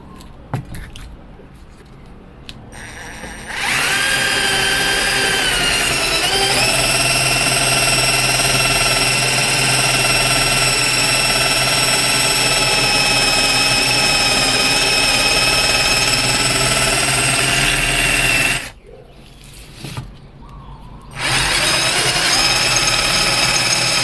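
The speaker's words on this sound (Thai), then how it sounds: "เดี๋ยวลองเจาะเหล็กดูนะครับ เหล็กตัวนี้ก็หนาประมาณ 4มิลนะครับ" A BONCHI 28V cordless drill bores into 4 mm thick steel, its motor whining at a steady high pitch for long stretches, with a brief pause and restart near the end and no talk.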